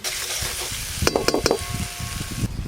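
Spice paste for a fish curry fries in a pan with a steady sizzle, broken by a few sharp metallic clinks of a utensil against the pan and some stirring scrapes, near and fairly loud.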